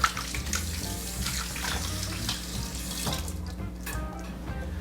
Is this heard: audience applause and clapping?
no